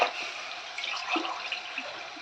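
Water is poured by the tumbler into a cooking pot for coconut milk rice, a steady close splashing stream with small gurgles and drips, heard alone.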